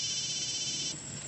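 A phone alarm rings in a steady, continuous electronic tone, fairly loud and alone, with no talking.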